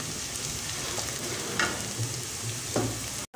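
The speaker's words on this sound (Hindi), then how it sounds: "और लहसुन अदरक गोल्डन ब्राउन हो गए हैं" Garlic and ginger frying in a pan until golden brown give a steady, close sizzle with a couple of faint stirring clinks, heard alone without talk.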